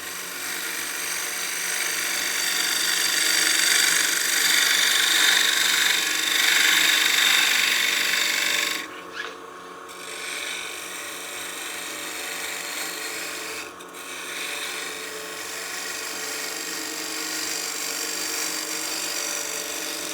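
A spindle gouge cuts a turning artifact pot on a wood lathe, giving a steady close rasping hiss with two brief dips where the tool lifts off the spinning wood.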